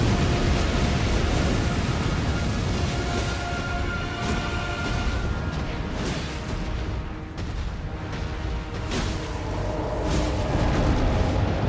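Erdtree fire explosion in the Elden Ring video game: a sustained, loud, dense roar of burning and rumbling blasts filling the whole stretch, with brief sharper bursts flaring near the middle and toward the end.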